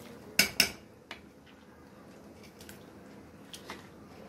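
A metal spoon knocks and scrapes against a cooking pot as masala is stirred into nahari, two sharp clanks near the start followed by softer scattered taps over quiet background.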